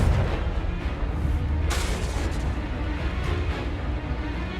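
A Confringo spell explodes in the Hogwarts Legacy video game, a dense, loud rumbling blast with a sharp burst partway through, sustained over heavy low-end game noise.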